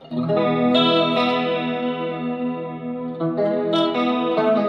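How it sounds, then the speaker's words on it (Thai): Strummed electric guitar chords through a Boss TG-10 with a shimmering, wavering chorus effect, a few sustained strums in sequence, loud and alone. "เสียงคอรัส"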